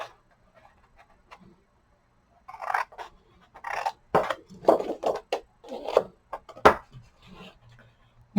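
Scissors snip paper along score lines in a craft project, a series of close, crisp cuts and rustles in irregular rhythm following a quiet start.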